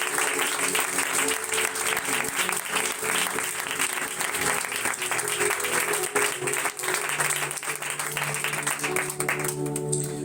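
Sustained congregational applause during a church sermon, a dense wash of clapping from a large crowd that holds steady and loud for about ten seconds before tapering at the very end.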